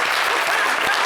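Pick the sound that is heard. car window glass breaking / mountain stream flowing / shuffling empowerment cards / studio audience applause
studio audience applause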